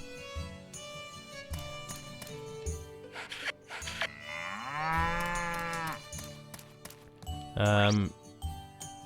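A cartoon cow moos once in the farming game Story of Seasons: Pioneers of Olive Town, a clear rising call set among chimes and short game effects, with a person talking over it.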